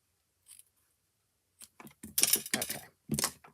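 Paper is trimmed with scissors during a fold-and-glue craft project, a few short snips at first, then a quick burst of close, crisp cuts in a quiet room.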